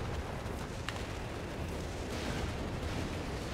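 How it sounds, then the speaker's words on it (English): Artillery fire in the video game Company of Heroes 3, a dense, continuous rumble of distant shelling and blasts with one sharper crack, steady and loud throughout with no talking. "Lots of artillery, though, coming on in to kill the MG and try to force the armor away."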